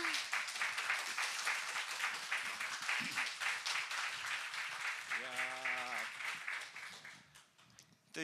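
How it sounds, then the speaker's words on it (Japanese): At a press conference for Batman Ninja The Show, the audience applauds the speakers in a thick, continuous wash that runs for several seconds, with a brief tonal sound partway through, before it thins and fades out near the end. "登壇者の方にもう一度拍手をお願いいたします"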